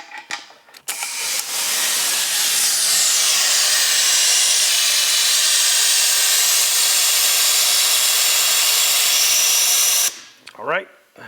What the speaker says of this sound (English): So let's get the vacuum back up where it belongs and we'll get started drawing the water in.